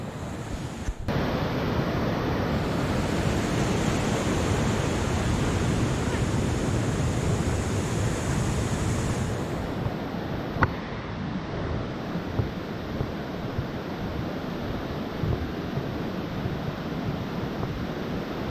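A river flowing in the Adirondacks of New York on a sunny day, heard as a steady, loud broadband rush of water that holds constant throughout, with faint voices briefly audible.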